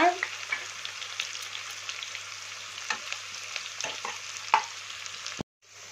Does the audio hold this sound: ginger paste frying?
yes